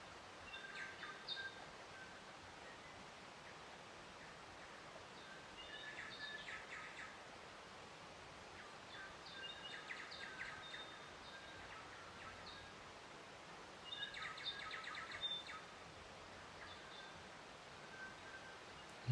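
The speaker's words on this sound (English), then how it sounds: "And the sounds of the birds." Faint outdoor birdsong comes in brief chirping bursts over steady background hiss, and the birds sound distant and quiet.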